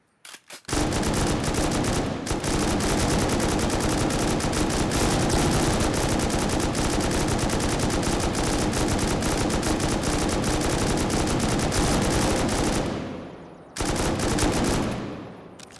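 Rapid sustained .50 caliber M2 machine-gun fire with explosive rounds hammering a wall in a video game, loud continuous bursts for about twelve seconds, a brief pause, then another burst.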